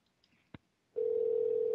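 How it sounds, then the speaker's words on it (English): A Skype phone call rings out: a brief click, then a steady, loud electronic ringback tone sounding continuously and alone. "There it goes. It's ringing."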